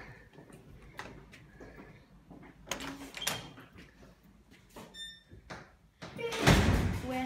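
An apartment door under a little archway swings open with a few clicks and thunks, ending in a louder, broad clatter near the finish.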